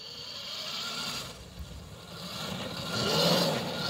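Electric Cyberquad ATV accelerating at full power in its top speed mode, a steady motor whine with mechanical drivetrain noise that swells louder toward the end, no talking.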